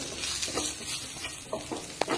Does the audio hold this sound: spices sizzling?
yes